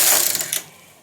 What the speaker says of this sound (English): And I'm going to knit 1 row.